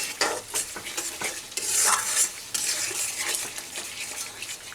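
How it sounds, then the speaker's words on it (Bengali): Potol (pointed gourd) curry with shahi garam masala being sautéed in a pan over a medium flame, giving a steady sizzle broken by repeated scraping and stirring strokes of a spoon against the pan, close and fairly loud, with no talking. "আবারও একটু কষিয়ে নেব।"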